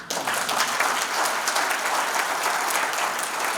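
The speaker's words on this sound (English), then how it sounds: "Yes, please applaud." Audience applause at the St. Joseph Area Sports Hall of Fame ceremony, a dense, steady wash of many hands clapping that holds evenly at full strength for a few seconds.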